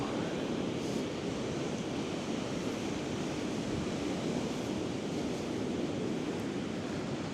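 Waves of the blue Mediterranean Sea wash ashore at Coral Bay as a steady, dense roar of surf, with wind buffeting the microphone and no voices heard.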